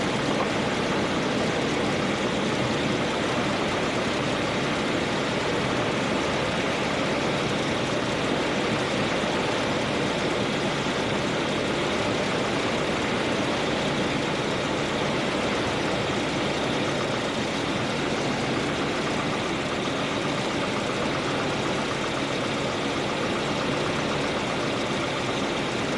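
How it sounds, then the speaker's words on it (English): A Volvo 740 engine idles steadily for a long stretch while warming up, a continuous low rumble with a faint rattle, no voices. "Let that engine warm up a little bit."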